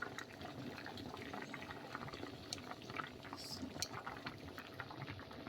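Steady bubbling and seething of water at a rolling boil, continuous and close, with faint clinks of metal utensils now and then.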